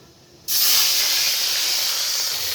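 Fish slide into hot oil in a wok for a mango, potato and fish curry, bursting into a loud, sudden hiss that holds steady and close right after a quiet start.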